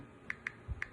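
Three crisp keystrokes on a computer keyboard, evenly spaced and close, tapped quietly in an otherwise calm indoor space.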